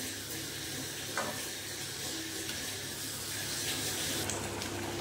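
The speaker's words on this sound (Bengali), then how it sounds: "জল দিয়ে এটাকে সেদ্ধ বসিয়ে দেবো। একটু ফুটবে" Chicken simmers in water in a pot for a subrani dish, giving a continuous hissing bubble that stays even and moderately loud throughout, with a faint knock or two.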